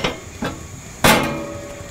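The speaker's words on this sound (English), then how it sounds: "And then I'm going to set my PK360 grill grates in place." Metal PK360 grill grates are set down onto a grill, giving three sharp clanks. The last is the loudest and rings out briefly. They are close and heard alone, with no talk.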